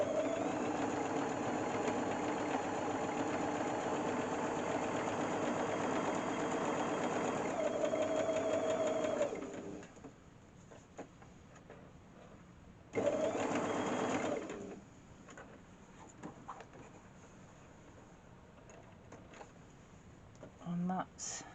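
A sewing machine runs a steady seam on a quarter square triangle quilt block, whirring continuously for several seconds before stopping, followed by a short second burst and faint handling noises.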